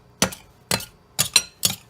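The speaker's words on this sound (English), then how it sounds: "You want to cut the shortening until the mixture resembles a coarse meal." Two knives cut shortening into flour in a bowl for baking-powder biscuits, giving four sharp scraping clinks spaced about half a second apart, close and distinct, with no talking.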